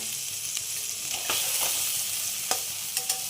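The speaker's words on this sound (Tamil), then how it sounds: "பன்னீர் எல்லாம் போட்டு ஃப்ரை பண்ணி எடுத்துக்கலாம்" Paneer cubes frying in hot oil in a kadai, a strong continuous sizzle with a few sharp clicks and pops of the pan and spatula toward the end.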